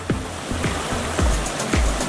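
Cold mountain creek water rushing steadily along Jake's Creek in the Great Smoky Mountains while a dog is bathed, a constant broad wash with a few splashes, close and loud.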